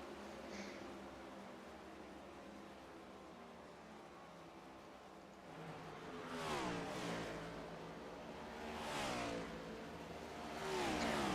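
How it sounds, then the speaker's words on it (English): Race car engines in a racing video game, a steady mechanical drone that swells into rising revs and pitch sweeps around six, nine and eleven seconds as cars accelerate past, no talking. "I'll leave the camera set up this way so we get the engine noises coming through for a few laps"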